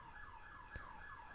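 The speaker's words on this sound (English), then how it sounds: "A very loud siren going by." A siren wails faintly outside, its pitch sweeping up and down in slow cycles as it passes by during a stormy day, heard indoors at low level with a brief click partway through.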